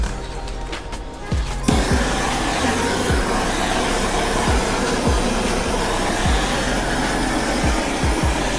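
Heat gun warming vinyl wrap on a car bumper, a loud continuous blowing roar that starts abruptly after a quieter moment and runs steadily with small rhythmic fluctuations.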